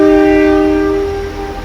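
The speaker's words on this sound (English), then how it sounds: "The Kuranda Railway is a beautiful old diesel train with heaps of carriages." Horn of the long old Kuranda Railway diesel train in the rainforest range near Cairns, a loud sustained steady blast that gradually fades, with a low rumble underneath.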